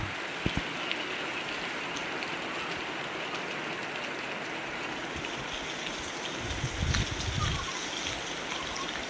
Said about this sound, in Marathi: भारी वाटतंय बघा पाऊस